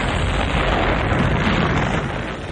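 A huge movie explosion from Rambo: First Blood Part II as Rambo leaps off a cliff into water, a loud continuous roaring blast that fills the whole moment with no talk.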